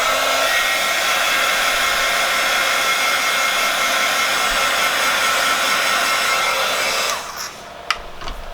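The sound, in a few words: hair dryer drying paint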